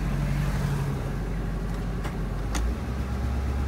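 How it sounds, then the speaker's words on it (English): A car engine idles steadily at a lowered idle speed, producing a low, even rumble close by with a couple of faint clicks and no talking. "See how you hear how low it's idling?"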